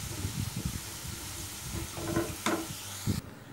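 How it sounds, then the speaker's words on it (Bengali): Turmeric-coated potatoes fry in oil with a steady close sizzle and some stirring clatter, a few sharper bursts near the end before the sound drops off abruptly. "হলুদ মেখে রাখা আলুগুলোকে অ্যাড করে দেব। এটাকেও আমি ভেজে নেব।"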